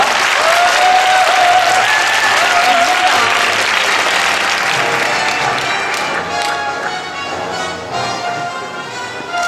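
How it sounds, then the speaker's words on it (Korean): Sustained, loud applause from the audience at a musical awards ceremony fills the whole stretch, a dense steady clapping that eases slightly toward the end, with faint crowd murmur and a brief voice underneath. "다시 한번 세 분에게 뜨거운 박수 부탁드립니다."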